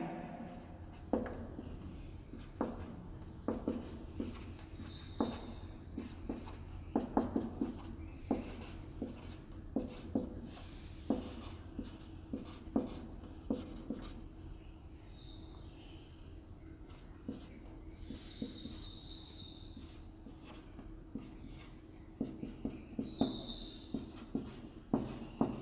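Chalk or marker writing the electrochemical series on a board makes a string of short scratchy strokes and taps in an irregular rhythm, fairly close and quiet, with occasional faint breathing.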